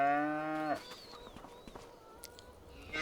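A cow moos loudly in a cow barn in the video game Farming Simulator 25, one long sustained call followed by quieter barn ambience with faint bird chirps and a second moo starting at the end.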